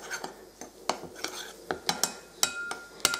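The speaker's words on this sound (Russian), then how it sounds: "Все постепенно замешиваю" A spoon clinks and scrapes against a bowl in an irregular rhythm while bread dough of kefir and corn flour is mixed, soft and close.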